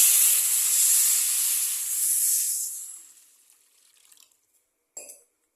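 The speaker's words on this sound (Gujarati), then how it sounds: "તો હવે એની અંદર નાખી દઉં પાણી" A loud burst of hissing, sizzling steam as water is poured into semolina roasting in a hot pan, fading away over a few seconds, then a brief clink.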